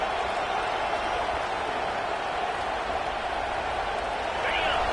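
A football stadium crowd roars steadily in support of the defense, a dense, sustained wall of cheering and noise with a commentator talking over it.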